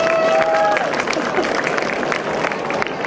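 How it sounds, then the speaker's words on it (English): An audience at the 2014 Hyderabad Comic Con, during a session with comics writer Ron Marz, breaks into a dense round of applause and cheering that fills the room steadily, with a few tonal squeals near the start and crowd chatter mixed in. "one round of applause for this"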